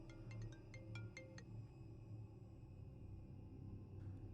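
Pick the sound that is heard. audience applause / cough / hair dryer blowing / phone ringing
phone ringing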